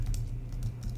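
Quick typing on a computer keyboard, a short burst of light key clicks close up over a low steady hum.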